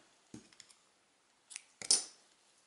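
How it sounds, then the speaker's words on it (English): Scissors snip crochet yarn up close: a few soft clicks of the blades opening, then a pair of sharper closing cuts, quiet and alone. "And now we pass again and cut the yarn."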